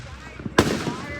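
Fireworks going off around a group of people outdoors: a single sharp, loud burst about halfway through, followed by a rumbling decay, with faint voices and crowd noise underneath.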